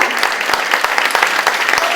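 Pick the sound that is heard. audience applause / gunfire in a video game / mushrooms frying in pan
audience applause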